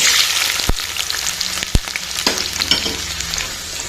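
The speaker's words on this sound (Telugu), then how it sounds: "ఇప్పుడు కట్ చేసి పెట్టుకున్నటువంటి ఆనియన్స్ వేసేసుకుందాం." Chopped onions hit hot groundnut oil with a loud, bright sizzle, punctuated by a few sharp clicks of the utensil against the pan, close and dense, fading slightly as it settles.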